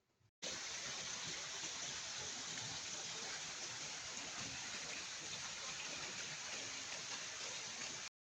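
Steady rain pours on a mountain at night, a dense, even hiss of falling water that starts abruptly and continues unbroken and fairly faint throughout, with no voices.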